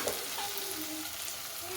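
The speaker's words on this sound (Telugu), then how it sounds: "ఇప్పుడు చికెన్ యాడ్ చేసుకుందాము" Chicken pieces sizzle and fry in onion paste in a pan for an Andhra-style chicken curry, giving a steady, close hiss with light stirring and no talking.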